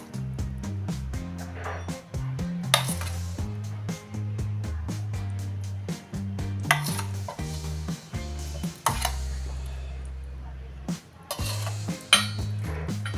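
A spoon clinks against a bowl while maida flour and curd are added and mixed for instant jilebi batter, with scattered taps and scrapes heard over steady background music.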